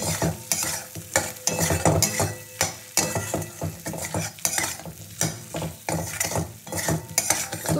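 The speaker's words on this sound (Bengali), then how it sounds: "আলু দিয়ে মশলাটা একটু ভালো করে কষিয়ে নেবো।" Masala being stirred and fried with previously fried potatoes for a kajli fish tel jhol, with repeated scraping and clinking of a spatula against the pan over a steady sizzle, close and fairly loud.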